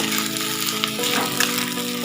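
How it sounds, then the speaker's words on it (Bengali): A pan of food frying and being stirred gives a steady, close hiss with small crackles, and a low hum sits under it. "নেড়ে চেড়ে নেড়ে চেড়ে আমি এটা ভাজাটা করে দেবো"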